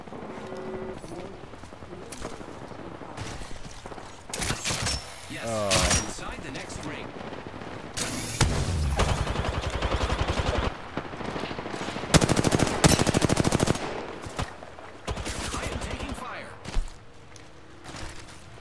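Gunfire in the video game Apex Legends, with bursts of automatic fire and single shots, some loud and close and others more distant, mixed with footsteps and game sounds, and a voice talking at times.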